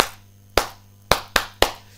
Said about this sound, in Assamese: এটা জোৰদাৰ হাত চাপৰি চৰকাৰৰ বাবে